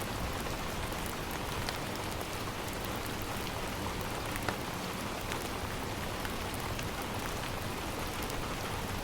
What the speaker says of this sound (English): The rain continues to fall heavily outside, the sound of it hitting the window creating a soft,